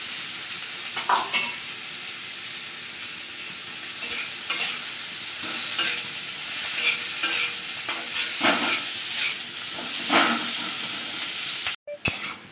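Onions frying in a pan for a Bengali loitta fish jhal, a steady close sizzle broken by repeated scraping stirs of the spatula, with a brief clatter near the end.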